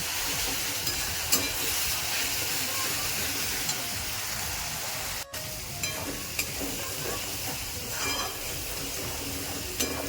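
Minced chicken or mutton kheema being sautéed with ginger-garlic paste in a pan, giving a steady close sizzle and frying hiss with occasional stirring scrapes throughout.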